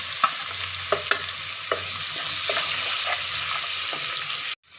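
Onion sizzles in hot oil in a pan for matar paneer, a steady crackling fry under a few sharp scrapes and knocks of a stirring spoon, close up and without speech.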